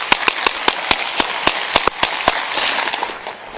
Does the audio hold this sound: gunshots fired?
yes